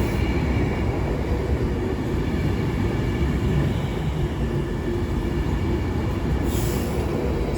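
Avanti West Coast Class 390 electric train arriving at London Euston on the West Coast Main Line, a loud continuous rumble of wheels on rail with a brief high squeal near the end.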